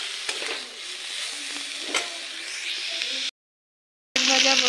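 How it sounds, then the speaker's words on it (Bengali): Leafy greens (saag) fry in a wok, catching slightly on the pan, giving a steady close sizzle and crackle with a few sharper pops. A short silent gap is followed by a louder, brighter burst of frying. "দেখো শাক ভাজা প্রায় হয়ে গেছে"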